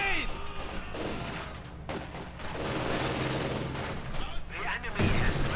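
Bursts of gunfire from Company of Heroes 2 battle scenes, with several loud, crackling volleys that swell and fade over a few seconds. Game voices call out over the shooting.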